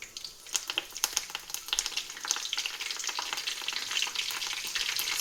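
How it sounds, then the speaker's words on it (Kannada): Cumin, mustard seeds and curry leaves crackle and spit in hot oil, a dense, steady sizzle with scattered sharp pops close up, no voices. "ಇವಾಗ ಇದಕ್ಕೆ 1 ಸ್ಪೂನ್ ಜೀರಿಗೆ ಹಾಕ್ತಿದ್ದೀನಿ, ಹಾಗೆ 1 ಸ್ಪೂನ್ ಸಾಸಿವೆ, ಹಾಗೆ ಇವಾಗ ಇದಕ್ಕೆ ಕರಿಬೇವು ಸೊಪ್ಪು ಹಾಕ್ತಿದ್ದೀನಿ"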